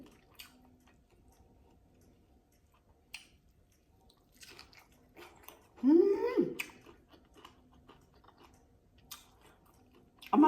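Raw garlic stems being chewed while eating, with a few crisp bites and one louder crunchy chew among quiet mouth sounds, close and intimate, with no talk.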